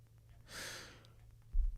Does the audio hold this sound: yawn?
yes